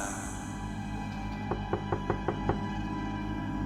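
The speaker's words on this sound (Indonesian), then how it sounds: "terdengar suara ketukan pintu di luar sana" A door is knocked six times in a quick, even series, sharp raps standing out over a steady background hum.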